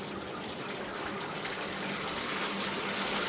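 Water sprays steadily from a shower head inside a home shower system, a close, even rushing hiss that holds constant and grows slightly louder toward the end.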